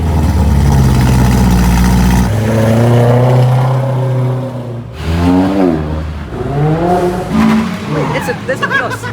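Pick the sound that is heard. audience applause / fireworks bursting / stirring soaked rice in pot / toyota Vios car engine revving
toyota Vios car engine revving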